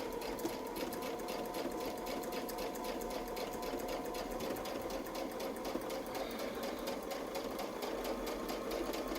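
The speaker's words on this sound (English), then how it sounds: "I'm going to sew the next feather." A sewing machine quilting a feather pattern guided by a Westalee template, running in a continuous steady rapid stitching hum with a fast even rhythm, close and unbroken for the whole stretch.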